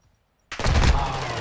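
Double pistols open fire in a 2v2 video game match, a sudden burst of rapid gunshots after a moment of near silence, loud and dense through to the end.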